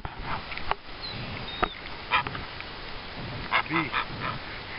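Several goose honks ring out among scattered bird calls and rustling outdoors in a park, with a cluster of honks near the end, moderately close.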